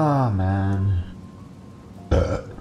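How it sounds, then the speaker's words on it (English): A single long, loud burp sounds right at the microphone after a stretch of video game play, followed by a pause and a short burst of further vocal noise. "That was my victory burp."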